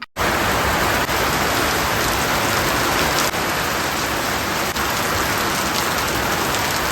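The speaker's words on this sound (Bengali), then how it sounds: "রান্না শেষ, আর এদিকে শুরু হয়েছে মুষলধারে বৃষ্টি।" Heavy downpour pounds steadily on surfaces nearby, a dense, loud, unbroken hiss of rain lasting throughout with no voices.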